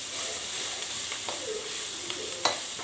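Peanuts frying in oil for lemon rice, a steady close hiss with a few faint pops and one sharper crack near the end.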